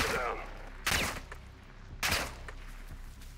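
Gunfire in the Call of Duty: Modern Warfare II campaign, two sharp bursts of shots about a second apart over a low rumbling game background.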